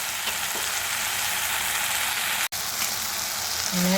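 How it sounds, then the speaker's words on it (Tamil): Tomatoes sautéing in a pan for urad dal tomato chutney give a steady, dense sizzle that runs unbroken from start to finish at close range, with one brief dropout partway through and no talking. "இப்போ கொஞ்சம் வதங்கணும் தக்காளி"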